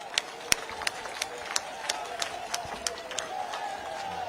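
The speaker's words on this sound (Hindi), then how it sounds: "एक एक व्यक्ति ताली बजाए" Crowd at a political rally clapping in a steady rhythm, sharp near claps beating roughly every third of a second over a murmuring crowd.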